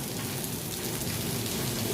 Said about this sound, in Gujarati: વરસાદ અત્યારે ફૂલ ચાલુ જ છે। ફૂલ મોટું ઝાપટું આવી ગયું અત્યારે।